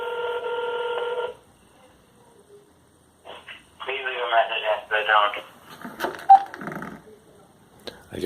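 A landline phone rings through a Phone Lynx Bluetooth cellular adapter, one steady electronic ring tone at the start, then quiet before a voice talks over a phone line.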